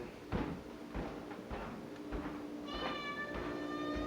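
Charlie the cat meows with a drawn-out, tonal cry near the end, over faint room noise and a few soft knocks.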